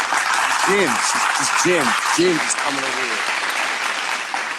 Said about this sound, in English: Can I get a hand clap?